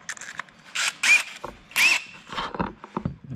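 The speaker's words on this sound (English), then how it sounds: "Put the DeWalt valve grinder on it and we'll grind away." DeWalt valve grinder working an engine valve seat: loud, close, separate bursts of whining, squealing grinding with short pauses between passes.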